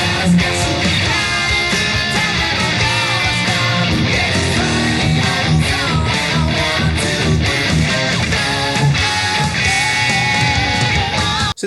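Electric guitar rhythm part from the second pre-chorus, dense and loud with a full band mix driving continuously without pause, no talking.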